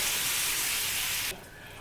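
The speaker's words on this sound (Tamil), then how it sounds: "இது மாதிரி வடிகட்டியில் வடிச்சுக்குங்க." Jaggery syrup is poured through a strainer into a pan as a steady bright hissing splash, close and continuous, then drops off sharply to a quieter trickle near the end.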